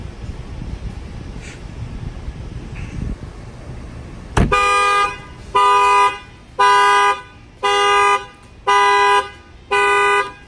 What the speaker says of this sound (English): That fire off the factory alarm.